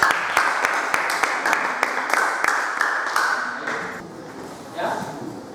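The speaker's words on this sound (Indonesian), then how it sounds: "Ya, aplaus dulu." A classroom of students applauds, a brisk burst of hand claps at moderate distance that thins out and fades after a few seconds, with a voice speaking over the tail end.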